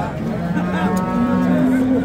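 A cow moos in a long, loud, close call at a busy Friday livestock market in Pastdarg'om, Samarkand, with crowd noise beneath it.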